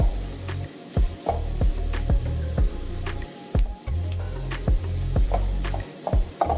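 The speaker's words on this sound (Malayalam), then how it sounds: "ഇഞ്ചി പൊട്ടുന്ന ഒരു ശബ്ദം കേൾക്കാം" Loud, busy crackling and popping of ginger frying in hot oil over a lowered flame, with bursts of sputtering over a steady hiss.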